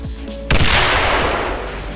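A grenade blast in the video game STALKER, a sudden loud explosion that hits after a moment of low background hum and then rolls off in a long fading rumble, heard alone.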